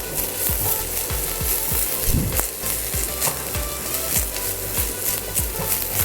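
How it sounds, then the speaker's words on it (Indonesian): Garlic and ginger sauté in oil in a pan, a constant loud sizzle with repeated rhythmic scraping strokes of a utensil stirring against the pan, close and uninterrupted. "Langsung aja masukin bawang putih dan jahenya"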